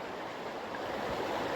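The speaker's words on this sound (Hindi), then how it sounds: "एक प्यारी सी नदी के पास हूं।" A river near a mountain road between Pithoragarh and Almora rushes in a steady, soft broadband wash, heard alone and fairly faint.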